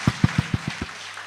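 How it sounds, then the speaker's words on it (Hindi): A crowd claps for a guru at a direct-selling career event, six distinct, evenly spaced claps at first that then trail away into quiet room tone. "एक बार जोरदार तालियां चाहूंगा गुरुजी के लिए"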